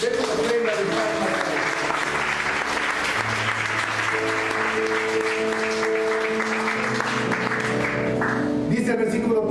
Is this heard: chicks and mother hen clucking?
no